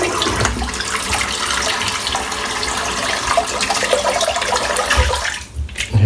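Running water from a tap rinsing a Head Blade razor, a steady close rushing splash that holds constant before briefly cutting off near the end.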